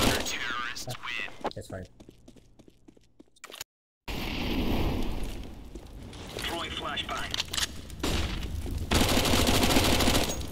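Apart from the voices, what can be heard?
gunfire in a video game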